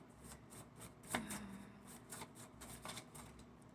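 Quiet, close rustling and riffling of playing cards being shuffled, in short uneven bursts.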